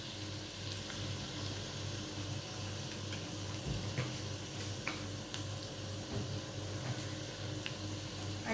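A steady, quiet sizzle of cumin seeds in hot oil with browned garlic in a pan, a soft continuous frying hiss with faint crackles and no voices.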